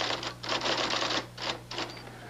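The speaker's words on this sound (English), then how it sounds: "When I'm not on the typewriter," A typewriter clatters in quick, dense bursts of keystrokes separated by brief pauses, close and fairly loud over a steady low hum.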